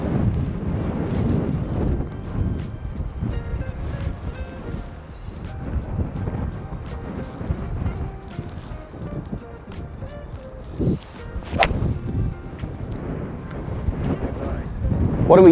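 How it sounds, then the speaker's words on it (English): Wind gusting across an open golf course, a steady rumbling buffet on the microphone that rises and falls throughout, with occasional knocks and rustles in the background. "Wind's off the right."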